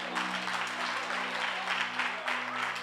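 A church congregation claps in steady, dense applause for a few seconds, loud and continuous, with voices mixed into the crowd noise.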